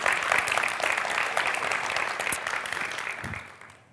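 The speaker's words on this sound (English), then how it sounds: "big applause" Audience applause at a welcome event in Umeå, a dense steady wash of clapping that holds for a few seconds and then fades out near the end.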